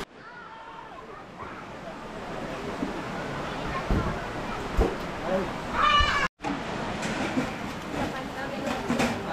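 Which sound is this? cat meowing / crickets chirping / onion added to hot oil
cat meowing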